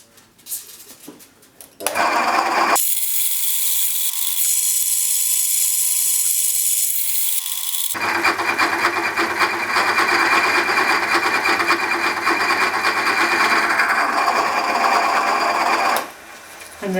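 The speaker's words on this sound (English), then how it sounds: "The drill did behave itself very well there" A drill with a high-cobalt bit cuts a motorcycle part for a pre-65 Triumph Tiger Cub special in a workshop, giving a loud, steady whining grind that changes tone partway through and stops near the end, with no talking.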